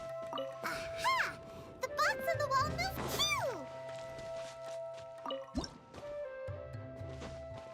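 Cute water droplet creatures in Genshin Impact make soft bubbly drips, squishy chirps and warbling squeaks in short bursts over a steady game tone, with pauses between the calls.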